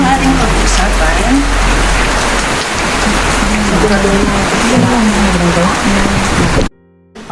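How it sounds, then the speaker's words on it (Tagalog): Heavy rain in bad weather: a dense, constant roar of downpour fills the scene, with a person talking over it and a faint engine-like rumble underneath, ending abruptly. "may sama ng panahon, grabe ang ulan."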